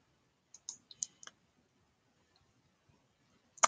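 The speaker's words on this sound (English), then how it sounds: "So you just click on the tools and script editor." Computer mouse clicks, a few sharp, close, quiet clicks in a short cluster, then a pause and a final click, in an otherwise near-silent room.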